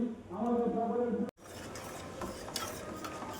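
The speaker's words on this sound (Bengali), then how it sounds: "কিছুক্ষণ নাড়াচাড়া করে" Milk mixed with palm sugar candy and salt is stirred in a pan, a steady scraping and bubbling texture broken by a brief pause, then continuing softer with light clinks, no one speaking.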